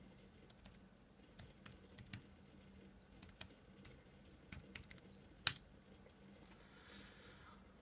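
Someone types a password on a computer keyboard, a sparse series of quiet, close key clicks at an uneven pace with one sharper tap near the end, in a quiet room.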